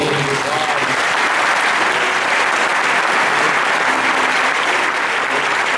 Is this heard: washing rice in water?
no